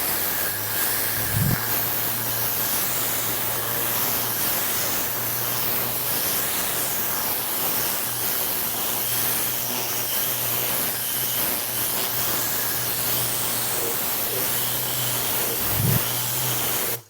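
A steady, loud pneumatic hiss of compressed air from a Tornador air-powered cleaning gun spraying a car's paint in freezing temperatures, with a low hum underneath and brief thumps near the start and end.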